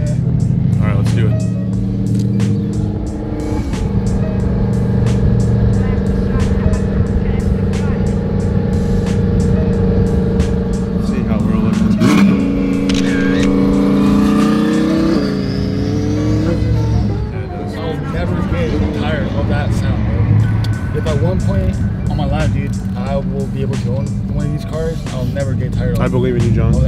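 An Audi R8 engine accelerates hard with audible turbo spool, its roar rising and falling through repeated revving pulls at close range, while people talk excitedly over it.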